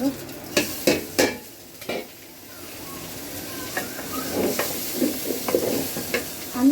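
Rice for pulao fries in a pan as it is stirred, with a steady sizzling hiss under several loud scraping strokes at the start and softer stirring scrapes later.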